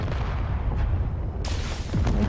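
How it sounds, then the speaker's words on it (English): Rockets strike a target ship in Space Engineers, a couple of dull booms over a low rumble, followed by a sharp burst as one hits. "rockets actually, they're doing a bit of damage there"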